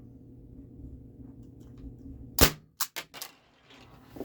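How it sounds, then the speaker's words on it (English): A single loud, sharp pop comes from a CO2-powered Lancer Defense Scorpion airgun after a quiet hum, followed by a few quick metallic clicks and rattles. "first shot. Safety's off, CO2 charged."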